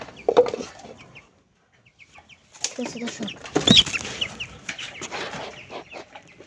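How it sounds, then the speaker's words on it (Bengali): A chicken clucks and squawks in short agitated bursts while being caught, close by, with someone talking over it and rustling scuffles between the calls. "ঠিক আছে, মুরগিটাকে ধরে নিই।"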